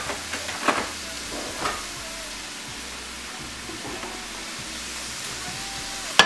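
Coconut milk poured into hot oil in a pan while making a Southern chipotle sauce, giving a steady low sizzle with a few soft clinks and stirring scrapes, ending in a sharp knock.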